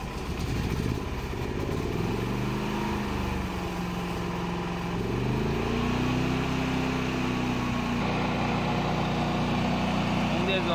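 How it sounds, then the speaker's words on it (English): A 7kW silent inverter generator is started by remote key and settles into a steady running hum, with the engine pitch rising and holding a constant drone throughout. "Push the fuel tank switch to the start position. Then turn on the engine switch. Press the remote key to start."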